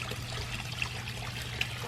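Water trickles steadily over a small garden pond spillway, a soft continuous splashing and dribbling with a low hum beneath and a couple of faint brief drips standing out.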